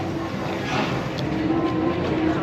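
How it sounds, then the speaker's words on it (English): A Disneyland souvenir plays a railroad sound effect, a continuous rumbling train roll with a steady tonal hum and faint clicking, heard loud and close. "Railroad, it made the sound of the railroad."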